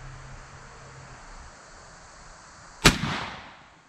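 A single sharp crack from an Airforce Texan .457 big-bore air rifle striking a lead plate, loud and close, with a short ringing decay after it. A faint breezy outdoor hush fills the quiet before the shot.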